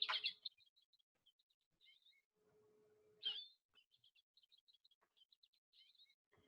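A stuffed toy bird plays an American goldfinch call: a bright, high chirping call repeating in quick twittering bursts, thin and electronic-sounding, with short pauses and a faint low tone beneath.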